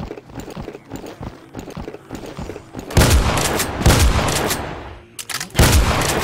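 Heavy shotgun blasts in a video game, a few loud booming shots with spaced gaps after a stretch of quieter rapid clicks and thumps.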